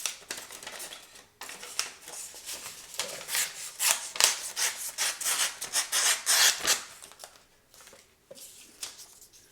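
A knife blade slices through paper in a run of quick, crisp scraping and rustling strokes, close and fairly loud, with short pauses between cuts.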